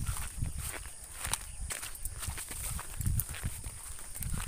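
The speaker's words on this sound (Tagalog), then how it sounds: "Naglalakad lang kami." Footsteps squelch along a slippery, muddy road after Typhoon Odette, a steady walking rhythm of soft, wet steps at close range, fairly quiet and with no talking.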